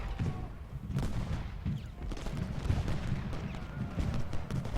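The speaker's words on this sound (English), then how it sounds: "we got some canister shots going off" Artillery canister shots during a Civil War battle at Gettysburg in the strategy game Ultimate General, a rapid series of muffled, distant booms and thuds in an irregular rhythm over a rumbling battlefield background.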